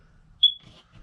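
The carbon monoxide detector in a 2019 Passport travel trailer gives one short, sharp electronic beep during a button test, close by and alone amid quiet handling noise.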